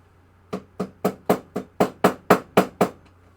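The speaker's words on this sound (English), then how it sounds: "Here's my new hammer." A hammer strikes metal ten times in a quick, even rhythm, each blow sharp and close with a brief ringing decay, during a refurbishment job where a T-nut must be removed.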